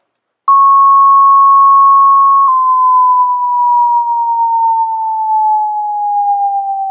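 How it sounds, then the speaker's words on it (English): A pure sine test tone for a hearing demonstration starts after a brief silence, holds steady for about two seconds, then glides slowly and smoothly downward in pitch, loud and isolated. "Now the descending tone."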